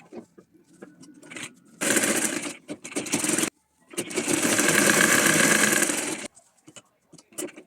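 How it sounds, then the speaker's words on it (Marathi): A sewing machine stitches cloth purse pieces in two loud bursts of rapid whirring, one short and one longer, with a quiet pause between them and faint handling sounds around them. "आपल्याला पाच पाच सहा सहा पीस एकत्रित आपण शिवू शकतो"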